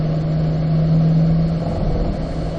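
A race car accelerates out of a turn at Spring Mountain track, its engine a loud, steady rumbling drone with a rising tone, heard close and alone.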